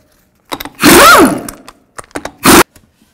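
Loud bursts of a power impact tool spinning off the 22 mm lug nuts on a 2000-06 Chevy Tahoe front wheel, a long whirring burst followed by shorter rattling hits, close up.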